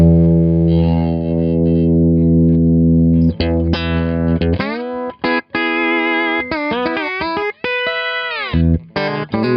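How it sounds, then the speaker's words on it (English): Slide guitar played through a Universal Audio UAFX compressor pedal, starting with long sustained, heavily squeezed notes, then shifting to short, choppy slid phrases with brief gaps, loud and upfront. "you can hear that compressor's working pretty hard there"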